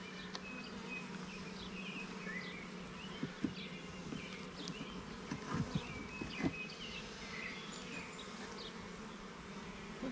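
Honey bees swarm around hive frames in a package colony two months after install, a dense continuous buzz with scattered individual wingbeats darting past close by, steady and moderately loud throughout.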